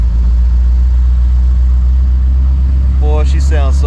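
A 1984 Chevy C4 Corvette found in a barn idles with a loud, steady low rumble, and a voice comes in over it at the end.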